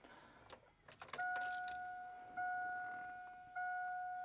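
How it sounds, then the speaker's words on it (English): A GMC or Chevy truck with a 6.0, 5.3 or 4.8 engine, heard with faint key and ignition clicks, then a steady two-tone chime that repeats three times as the key is turned. "I'm back with the truck now, and I want to turn it on and let you have a listen"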